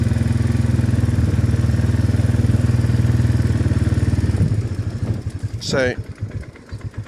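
Farm motorbike engine with a centrifugal clutch idling and warming up, a steady close putter that loosens into uneven chugging as someone briefly speaks and a short squeak rings out near the end.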